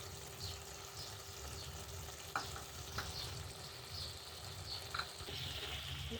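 Seem (flat bean) chorchori with tomato, sugar and coriander leaves sizzles steadily in a hot pan, broken by a few soft scrapes of stirring, with no voices.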